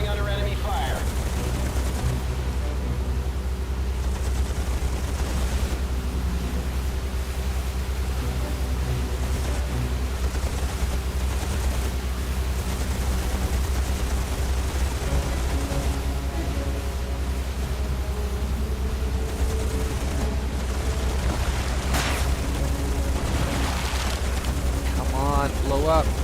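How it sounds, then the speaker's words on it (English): Naval battle sounds in the game Battlestations: a continuous low rumble of gunfire and explosions with sharp blasts toward the end, running under a man's speech throughout. "We are coming under enemy fire."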